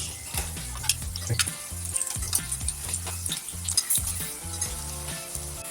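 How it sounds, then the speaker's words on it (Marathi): Cabbage tikki vadas shallow-frying in a pan, a continuous hiss of oil under rhythmic low thumping beats of background music, with scattered light clinks and no voices. "ते टिक्की मस्त मस्तपैकी एक साईडनी खरपूस भाजू देऊया एक साईडने पलटून घेऊ"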